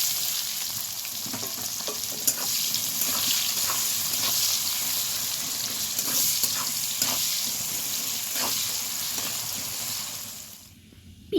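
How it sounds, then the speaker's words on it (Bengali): Two medium chopped onions fry in hot oil with whole spices (chilli, cardamom, cloves, cinnamon) for a Bengali potato dum. A steady, close sizzle with faint crackles and stirring runs throughout, easing off at the very end, with no voices. "পেঁয়াজটা যতক্ষণ ভাজা হচ্ছে তেলের মধ্যে"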